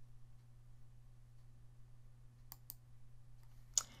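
A few quick computer mouse clicks while working through the Excel options menu, sharp isolated taps over a low steady hum in a quiet room, the last click the loudest.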